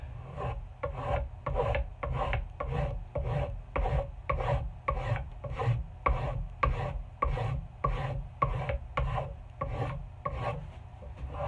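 A Nicholson rasp shaves a wooden axe handle to fit the head's eye, making a rhythmic series of about twenty close, scratchy strokes, evenly paced back and forth, with no voices.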